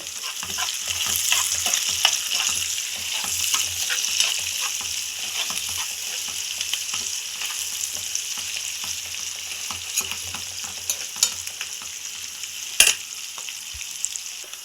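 Onions and green chillies fry steadily in hot oil, a dense continuous sizzle with frequent stirring scrapes and one sharper clink near the end, no voices.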